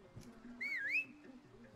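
A single sliding two-note whistle from a character in Far Cry 6 rises, dips and rises again, clear and close against a quiet game background with faint low murmur.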